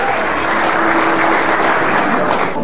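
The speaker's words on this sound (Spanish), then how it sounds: "fuerte el aplauso, por favor" Loud, sustained applause from an audience at a water-rights meeting, a continuous dense wash of clapping that holds steady throughout with no voices over it.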